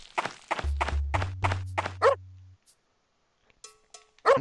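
A dog in the video game Parasite Eve 2 barks in a rapid string of sharp yelps over a low humming tone, then the sound drops to near silence before a couple of brief thumps.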